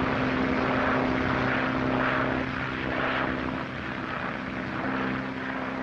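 A 1937 propeller airplane flies a transatlantic crossing with its engine droning loud and steady, a constant buzzing roar that holds without pause and has no talk over it.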